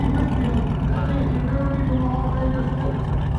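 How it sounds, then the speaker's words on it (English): A Corvette C8 idling with an aftermarket exhaust at a SEMA car cruise, giving a deep, loud rumble close by with a rhythmic loping pulse that repeats steadily throughout. "Nice exhaust on the C8. It's got a nice lope to it."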